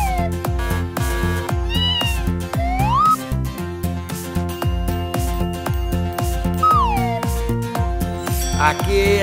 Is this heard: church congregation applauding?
no